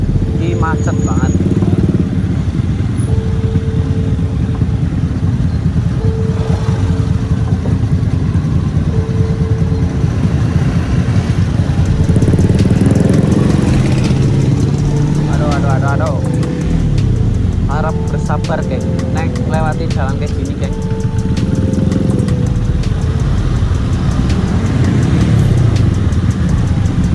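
Loud, close idling motorcycle engines and cars in a stalled traffic jam, a constant low rumble with occasional revs and horn-like tones, while someone talks over the noise.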